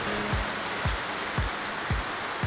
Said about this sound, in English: I've learned how to do lots of sanding, especially on runs, and imperfections.